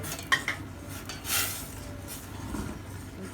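A utensil stirs sugar into coconut milk in a pot, giving faint scrapes and light clinks with a few soft metallic taps, close by and quiet.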